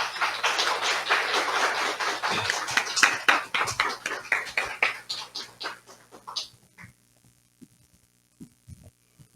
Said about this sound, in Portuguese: eu quero um carinho e uma salva de palmas para ela